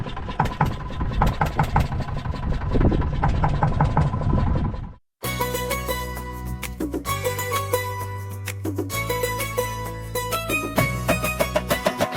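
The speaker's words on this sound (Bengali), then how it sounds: "নৌকা আমাদের স্টার্ট, তো এবার বেরিয়ে পড়ি।" A fishing boat's engine runs loudly, cuts out briefly, then restarts and settles into a steady, rattling idle close by in windy conditions.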